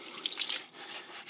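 Water trickles and drips slowly into a pond being filled over a packed bentonite clay bed, a soft, close, steady dribble with a few brighter splashes early on and no talking.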